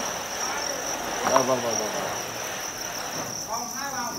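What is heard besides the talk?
crickets chirping in boxes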